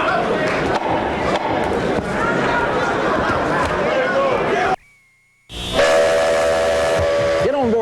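Steam train whistle sounding loud and close, a sustained shrill tone with hiss over busy background noise, cutting out briefly before a steadier harmonic whistle blast resumes.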